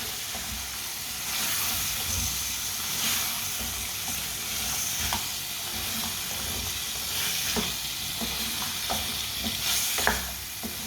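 Finely chopped potatoes and carrots stirred in a hot pan for a winter Punjabi mixed vegetable dish, a continuous close sizzle with irregular scraping clicks from the utensil.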